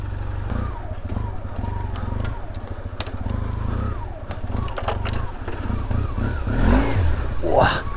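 A Yamaha Super Tenere XTZ750 motorcycle engine labors and revs climbing a steep uphill trail, a loud close drone that swells near the end, with a voice speaking over it.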